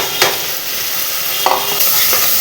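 Onion and mutton frying in a pan for a Konkani-style mutton rassa, a steady loud sizzle with a few sharp scraping stir strokes, close up and without voices.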